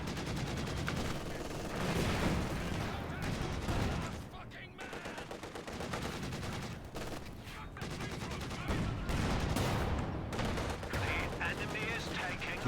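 Tank cannons and machine guns firing during a competitive match with Su-85, T-34 and Panzer IV tanks, dense repeated shots and explosions amid a continuous battle din, with a commentator talking over it.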